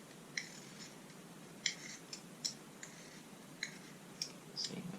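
Small blade shaving wood from around the core of a charcoal pencil, heard as faint, close, sparse clicks and scrapes at an uneven pace against a quiet background.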